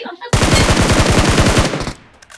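Automatic gunfire in the PUBG Mobile battle-royale game: a loud, close burst of about fifteen rapid, evenly spaced shots lasting over a second, then a quieter tail of faint clicks.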